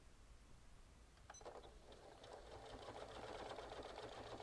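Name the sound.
Janome sewing machine sewing through six layers of denim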